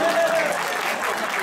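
A crowd claps for a Hindi-language skit at a Dussehra celebration in Geoje, Korea, a dense burst of applause with talk mixed in.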